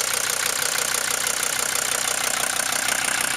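A Mercedes-Benz diesel engine with rebuilt Monarch injectors idles steadily up close, its even knocking rhythm running continuously with no speech.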